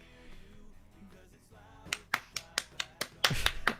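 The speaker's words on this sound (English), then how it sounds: "That clap is for him too" Sharp hand claps ring out one after another at a quick, slightly uneven rhythm during a livestream, following a quieter stretch of low background sound.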